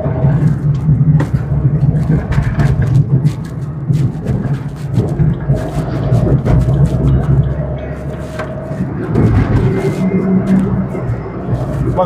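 Container trucks crawl along the Mumbai–Goa highway in a continuous heavy low rumble of road and engine noise that swells and eases slightly, with no pauses.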